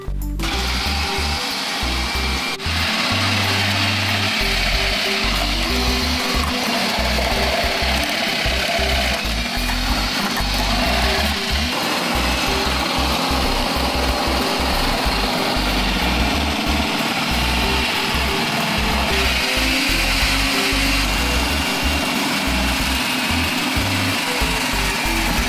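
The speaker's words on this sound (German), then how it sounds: "Jetzt wird es gleich laut, ich häcksel jetzt alles kaputt." An electric food chopper whirs and grinds steadily through raw beetroot for a salad, a loud continuous mechanical racket with rattling, churning bursts that runs without a break for the whole stretch.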